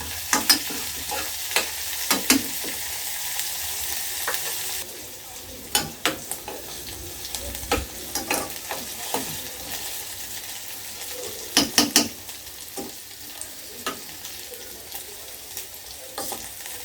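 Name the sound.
stir frying in a pan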